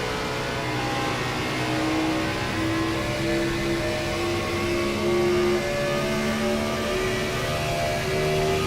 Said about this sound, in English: You hear him work the throttle a little bit